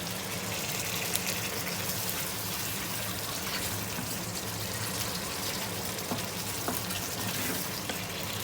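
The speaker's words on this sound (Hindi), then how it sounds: "मीनवाइल हम अपनी दाल जो 1 कप हमने भिगोया था इसको हम पानी गिरा देंगे इस पर।" Water pours steadily off a cup of soaked chana dal in a kitchen, a continuous close splashing stream that runs evenly throughout with faint clinks.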